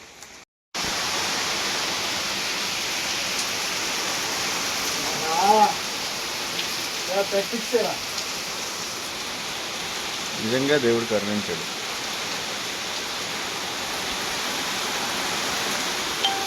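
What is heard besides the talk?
heavy rain falling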